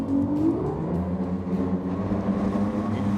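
A 600-horsepower engine drives a pleasure boat up onto plane, a steady low droning roar with a rising whine that builds over a few seconds, loud and close with no voices.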